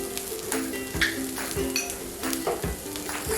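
Sweet corn sizzles in a frying pan with a steady crackling hiss. A spoon stirs it and knocks against the metal pan in repeated rhythmic scrapes and clinks, close and clear.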